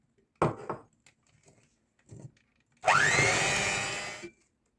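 An electric hand mixer whirs loudly for about a second and a half, beating eggs into a citrus cake batter with vanilla and orange and lemon zest, after a few scattered clinks and knocks of the bowl.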